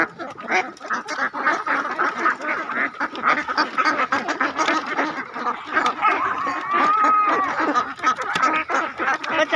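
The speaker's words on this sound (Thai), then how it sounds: "เป็ดงามค่ะเป็ดงามเป็ดงาม" Egg-laying ducks roaming a field keep up a loud, constant babble of overlapping quacks from a big, nearby flock, with no pause throughout.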